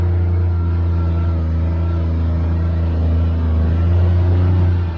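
A Kawasaki Mule Pro-FXR side-by-side climbs an off-road obstacle, its engine giving a loud, steady low drone that builds slightly toward the end. It sounds close and continuous, with no voices.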